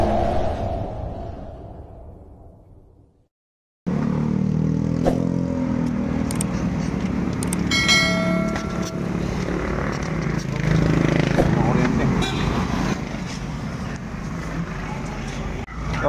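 A motorcycle with an electrical fault that loses power and dies: the engine fades and cuts out to silence, then abruptly restarts and runs on with a steady, uneven idle and revving, with some background noise.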